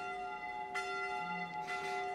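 Church bells at the Ba Chuông church ring in the distance, steady sustained tones hanging over quiet ambience, with a faint burst of extra clang partway through.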